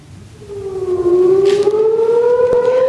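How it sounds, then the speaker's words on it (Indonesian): A loud civil defense air raid siren wails in Israel during an Iranian air attack, its pitch rising and then holding in a long, steady drone that fills the air. "warga Israel ketakutan saat sirine beraung di udara"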